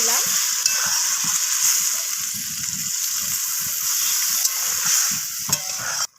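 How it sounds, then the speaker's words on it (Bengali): Water poured into a pan of sizzling vegetables for a Bengali pui shak chorchori with rohu fish oil, a continuous close bubbling sizzle with stirring clatter, no voices. "তো এখন আমি এখানে প্রয়োজন মতো জল দিয়ে দিলাম।"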